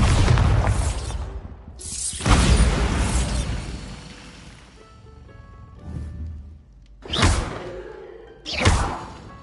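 Bombarda spell blasts in Hogwarts Legacy, a run of loud booming explosions with whooshing bursts and shattering debris, the big blasts spaced apart with quieter rumbling between.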